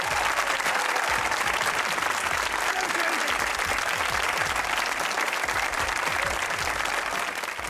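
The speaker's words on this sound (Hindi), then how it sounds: "आपकी भरपूर तालियों में मोहम्मद असलम" A studio audience on a comedy talk show gives loud, continuous applause to welcome cricketer Mohammad Aslam, a thick, even roar of clapping with crowd noise that stays strong for the whole stretch before tapering slightly at the end.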